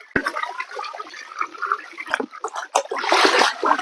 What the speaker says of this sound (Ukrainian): По кругу басейну це все виливаємо.